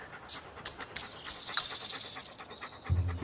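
A French bulldog panting close by at a doggy day care, rapid breathy huffs in bursts that swell loud and then fade.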